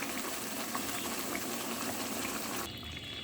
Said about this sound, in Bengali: কিছুক্ষণ ফুটবে, যতক্ষণ মাছটা সিদ্ধ না হয় ততক্ষণ মাছটা একটু জাল হবে।